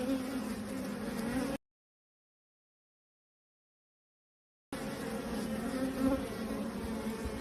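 A honey bee swarm in Maryville, Tennessee, in April buzzing steadily and fairly close, a dense continuous drone that cuts out to silence for a few seconds midway, then resumes just as strongly.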